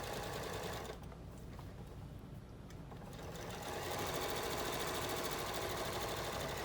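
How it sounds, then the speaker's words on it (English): A sewing machine stitches binding onto a quilt with a steady, fast mechanical whir, easing briefly and then running loud and continuous to the end. "I'm going to go ahead and sew all the way to the corner."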